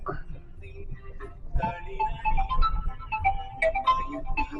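A phone ringtone signals an incoming call, a short melodic tune of repeated notes rising over a noisy background inside a vehicle, with a voice talking at the start.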